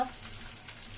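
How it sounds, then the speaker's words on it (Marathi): Steady sizzling of capsicum frying in hot oil, soft and continuous with no voices. "ढोबळी मिरची फोडणीवर चांगली परतून घ्यायची"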